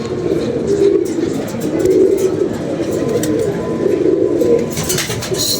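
Pigeons coo repeatedly in a low, steady murmur, fairly close and continuous, with a brief flutter of brighter bird noise near the end and no clear talking.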